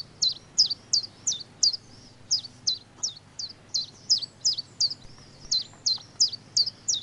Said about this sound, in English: What does a chiff-chaff sound like?